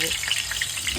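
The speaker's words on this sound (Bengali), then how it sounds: "প্রথমে আলুগুলোকে ফ্রাই করে নেবো" Potatoes frying in hot oil for homemade biryani, a loud continuous close sizzle with crackling bubbles, with no pause across the short stretch.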